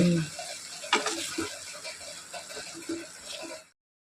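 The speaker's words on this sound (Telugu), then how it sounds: "ఈ మసాలా పేస్ట్ మంచిగా ఆయిల్లో ఫ్రై అవ్వాలి" Masala paste frying in hot oil in a pan on a stove at medium flame, a soft steady sizzle with faint stirring scrapes, moderately close and fairly quiet.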